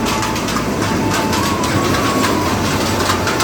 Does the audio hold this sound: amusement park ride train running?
yes